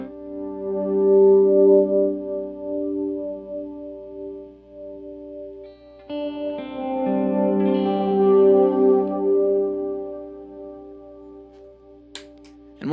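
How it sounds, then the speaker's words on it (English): Sustained guitar chords ring out through a swirling modulation effect with lush reverb, a second strummed chord swelling midway, then a brief click near the end. "I can get a modulated reverb sound"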